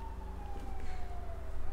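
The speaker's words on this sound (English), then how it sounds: "Even like near the sirens, here they are." A police siren wails with a steady falling tone, heard at moderate distance over a low background rumble, brief and without talk.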